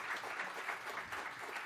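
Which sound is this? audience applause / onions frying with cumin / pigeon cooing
audience applause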